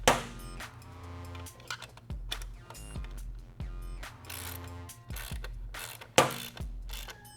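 A ratchet clicks in repeated bursts while tightening a tailpipe hanger bolt on a Yoshimura R-77 full exhaust on a 2014+ Yamaha FZ-09 motorcycle, close and crisp, with a few sharp knocks between strokes.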